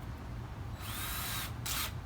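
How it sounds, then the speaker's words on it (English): A power drill with an extra-long 1/8-inch bit whirs up to speed for about a second, briefly stops, then spins again in a short second burst, pre-drilling for a brass hose splitter, loud and close. "Now we're going to pre-drill with the big"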